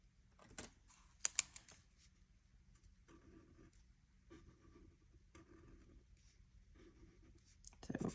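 A crayon or marker scratching as a square on a paper chart is coloured in, soft repeated strokes in short bursts, close but faint against quiet, with a few sharper taps of a pen or dice between them.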